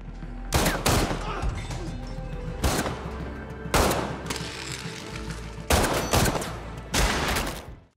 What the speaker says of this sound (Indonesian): Jones keburu datang sambil mengeluarkan tembakan ke arah Miller